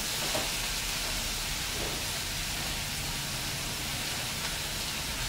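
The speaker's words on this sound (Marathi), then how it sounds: "कढीपत्ता घालायचा" Dense, steady crackling sizzle of curry leaves dropped into hot oil in a pan, loud and close, continuing evenly without pause and with no talking.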